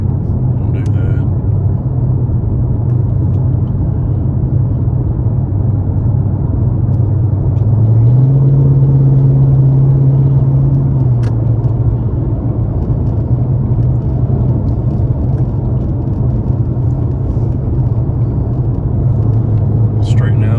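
A Ford Mustang GT fitted with a Pedal Commander throttle controller and set to Sport Plus drives along, its engine a loud steady low rumble that rises briefly in pitch as it accelerates, with a voice talking over it.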